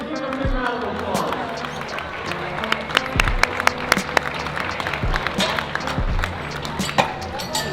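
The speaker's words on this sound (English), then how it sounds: "Give him a big round of applause." Audience applause at the 2021 Raw Nationals powerlifting meet for the first-place lifter, steady clapping with sharp individual claps standing out and an announcer's voice over it.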